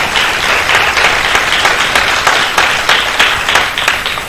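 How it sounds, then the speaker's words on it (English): An audience at a robotics competition applauds its judges, a close, full burst of many hands clapping with a slightly pulsing texture that tapers near the end, with no talk over it. "Let's give them a big round of applause for their dedication again"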